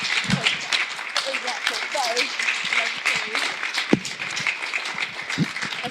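Audience applause welcoming a speaker to the stage at a live event, steady dense clapping from a crowd throughout, with a few louder claps and some voices mixed in.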